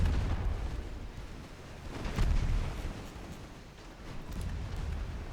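Torpedoes launch and explode during a Japanese naval campaign battle in a warship video game. A low, muffled rumbling roar runs throughout, with a stronger distant blast near the middle.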